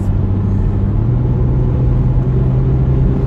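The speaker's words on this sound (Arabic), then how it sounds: "تعالوا يعني نجرب ال 340 مع محمد ونشوف عاملة ايه في الشارع" A 2019 BMW 340 sedan driving on a street, its engine giving a steady, loud low rumble with continuous road noise throughout, no voices.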